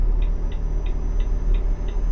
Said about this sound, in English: Yeah, listen to even my signaling.